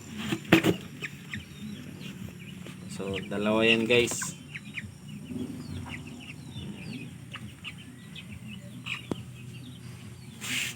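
Japanese Shamo chicks about two months old cluck and chirp in a backyard setting, with a sharp louder call midway, while someone speaks over them at intervals.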